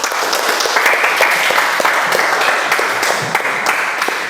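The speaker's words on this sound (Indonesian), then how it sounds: "berikan aplaus" A classroom audience applauds during a history lesson, giving dense continuous clapping that stays loud and even for several seconds, with no talk over it.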